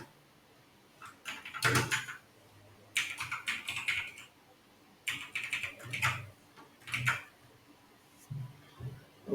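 Code being typed on a computer keyboard while writing Rails 7 routes: several close bursts of quick key clatter separated by short pauses, with no talking.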